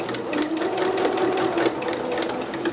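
A sewing machine runs steadily, stitching dress seams for a McCall's M6701 dress pattern. Its needle action makes a fast, continuous mechanical whir that stays close and fairly loud throughout, with no voices.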